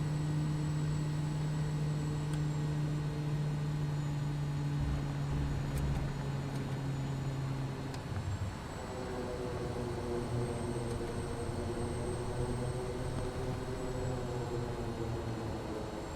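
In Microsoft Flight Simulator, a Quest Kodiak 100 turboprop lands during Idaho bush flying; its engine hums as a steady drone, with the pitch and tone shifting partway through as power changes on touchdown.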